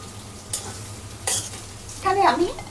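Potatoes and shrimp fry in a pan with oil and turmeric, and a spatula scrapes through them in three short, close strokes over a constant low sizzle.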